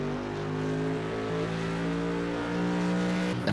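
A GT3 race car exits a corner at Spa under load, with loud, close engine harmonics sweeping steadily up and down. A faint tire squeal sits beneath the howl for the full stretch.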